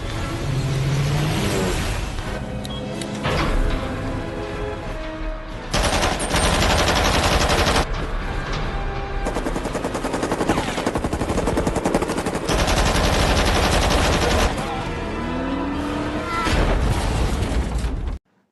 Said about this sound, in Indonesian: X berhasil menembak Yorgi meski tembakannya sempat melenceng dari targetnya